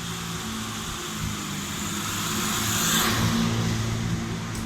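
Car passing on a road near Şarköy, a steady engine hum that swells to a peak around the middle as it goes by, then eases away, fairly close, with no talking.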